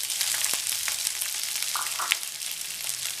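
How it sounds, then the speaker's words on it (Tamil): Green chilli and onion sautéing in hot oil for chapathi upma, a steady close sizzle with faint stirring and no voices. "இதெல்லாம் சேர்த்து நல்லா வதக்கிக்கலாம்."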